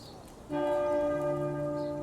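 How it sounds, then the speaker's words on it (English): A single church bell strike in the video game Pillars of the Earth rings out suddenly after a quiet moment, then hums on with a steady, lingering tone. "Don't do the church bell."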